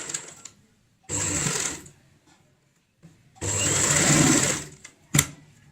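A home sewing machine stitches a fabric door mat in two runs of steady, close mechanical whirring, the second longer, separated by quiet pauses and small handling clicks.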